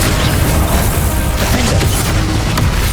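Confringo, the fiery blasting spell in Hogwarts Legacy, bursts with a dense, loud boom, part of a continuous roar of combat noise with faint crackling bursts near the end.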